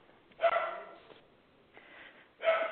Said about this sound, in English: You hear my dog back?